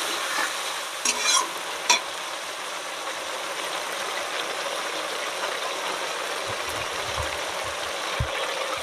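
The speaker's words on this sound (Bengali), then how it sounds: "দিয়ে সুন্দর করে মশলাটা আগে কষিয়ে নেব ভালো করে" Ginger and cumin paste stir-fried in a pan for a fish-head cabbage dish, village cooking: a steady, close sizzle runs throughout, broken by a few sharp scraping stirs near the start and soft low knocks toward the end.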